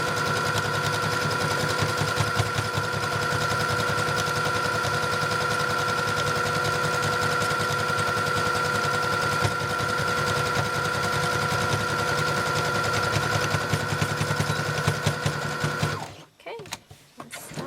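A sewing machine stitches fabric for a child's corset top with ribbon, running in a fast, steady drone for about sixteen seconds before stopping abruptly.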